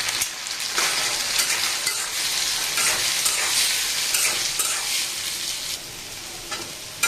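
Egg and flour batter with potato fries in hot oil in a pan over a low flame, giving a steady bright sizzle with crackling bursts and occasional stirring, close and continuous.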